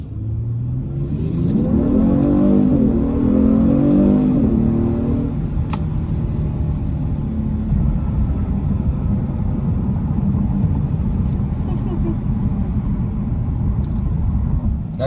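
A 2019 Genesis G70 with the 3.3-liter twin-turbo engine accelerating hard, heard from inside as a loud, rising engine drone that climbs and shifts over several seconds, then settles into a steady, heavy road and engine roar.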